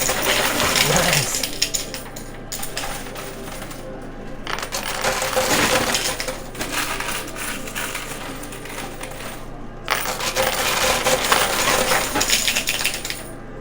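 Coins clatter and cascade in repeated rushing waves from a high-limit coin pusher machine, loud and close, with steady metallic jingling between the surges and no talking.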